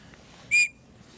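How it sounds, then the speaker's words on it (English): A small survival kit whistle is blown once, a short shrill blast of about a quarter second, close and loud against a quiet background. "and also a whistle."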